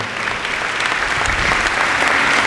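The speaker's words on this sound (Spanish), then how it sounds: "Dale ese aplauso bien fuerte al Rey de la Gloria." A church congregation applauds loudly and steadily during a Spanish-language worship service, a dense wash of clapping from the crowd that holds throughout.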